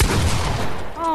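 A rapid burst of Fortnite gunfire, loud and close, fading within about a second into a brief tonal game sound.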